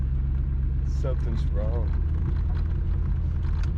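A 1996 Mustang GT with an auto-to-manual transmission swap and a worn clutch drives at about 35 mph. Its engine gives a steady low rumble throughout, close and continuous, while someone talks briefly over it.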